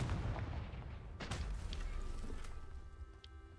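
A Confringo fire spell blast in Hogwarts Legacy goes off as a loud, booming burst around the one-second mark, then rumbles and crackles as it fades over low game noise.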